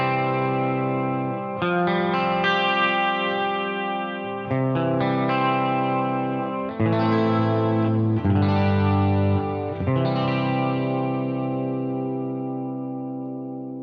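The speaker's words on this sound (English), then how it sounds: "the special thing about this rig to me is the chorus. The chorus just sounds really good." Electric guitar played through a Headrush rig with a Dyne compressor, distortion and lush chorus into a 4x12 greenback cab, with sustained chords ringing in several phrases separated by short breaks.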